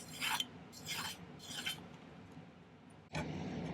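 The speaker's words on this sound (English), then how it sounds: "I'm going to file this more to a taper on this end now" A metal file rasps against a ring bezel for an opal ring, shaping it to a taper in a few quick rhythmic strokes, then a steadier scraping pass, close and fairly quiet with no voices.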